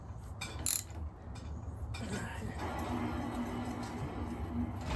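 A hand ratchet works on the crank bolts of a square taper bicycle bottom bracket, giving a steady mechanical clicking and grinding that runs continuously after a brief sharp clink, close by, with no talking.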